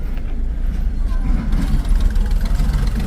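A vehicle engine runs at a steady low rumble throughout, loud and close, with faint background noise.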